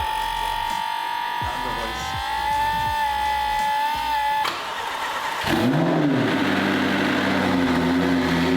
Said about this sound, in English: It's time to fire it up.